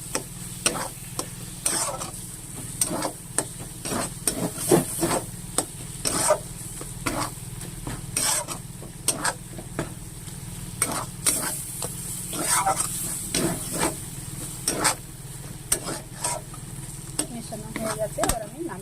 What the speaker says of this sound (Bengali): পোস্ত দিয়ে এটা ভালো করে মিশিয়ে নেব।